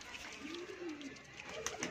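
A pigeon coos softly and fairly close, a low rolling murmur standing out against faint background noise.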